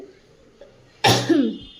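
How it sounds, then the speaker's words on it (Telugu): One sharp, close cough from a person with a sick voice, rising suddenly out of near silence and trailing off briefly. "మధ్య మధ్యలో దగ్గుతూనే ఉన్నాను"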